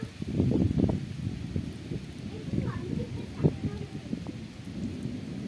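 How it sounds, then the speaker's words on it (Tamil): Heavy rain pours outside a hotel room on a trip to the Kodaikanal hills, giving a steady close wash with low rumbles that could be thunder, and a person speaks over it. "பார்த்தீங்கன்னா தெரியும் செம மழை பெஞ்சிட்ருக்கு."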